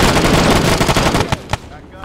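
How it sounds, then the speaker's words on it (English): A German MG42 machine gun in a World War II video game set in Belorussia, firing loud, rapid sustained bursts up close that break into a few separate shots before fading, with voices under the fire. "Motherfucker with an MG42! There's a whole squad in there!"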